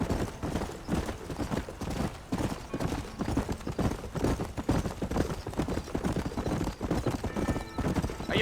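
A horse gallops in Red Dead Redemption, hooves pounding in a steady, fast clip-clop that runs the whole time at close range, with a brief whinny and faint background game sounds.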